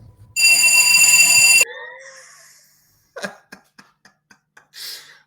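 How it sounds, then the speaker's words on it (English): A fire alarm goes off during a live broadcast: a loud, piercing electronic tone sounds for about a second, then cuts out, followed by a few sharp clicks and a short burst of noise. "I have never before been on a live broadcast which has been interrupted by a fire alarm"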